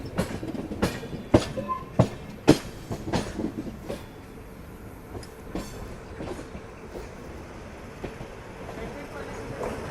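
A decorated Paschim Deluxe Express passenger train runs on rails, with sharp wheel clacks over the first few seconds that settle into a steady, moderately loud rolling rumble, and a voice faintly present.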